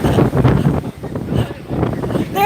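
Gusty wind buffets the microphone outdoors near water where a sailboat is being launched, a steady low roar rising and falling across the clip with voices faintly underneath.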